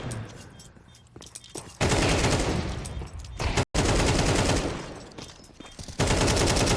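Bursts of gunfire in a Counter-Strike esports match, loud, dense volleys of rapid shots separated by brief quieter stretches and one sharp cutoff, with no talk over them.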